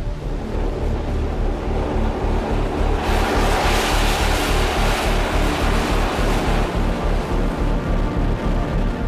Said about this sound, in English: A torrent of steam capable of rotating a turbine and generating electricity